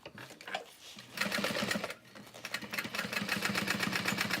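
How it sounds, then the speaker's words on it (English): A sewing machine stitches fabric right up against a zipper tab, its rapid mechanical needle chatter running in bursts with a short pause, close and fairly quiet. "I'm sewing right up against my zipper tab"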